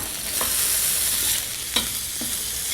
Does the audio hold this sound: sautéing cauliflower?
yes